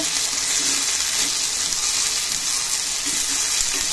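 About half a glass of water pours steadily with a hissing splash into a cooking pan of ginger chutney, a continuous bright rushing sound with no voices.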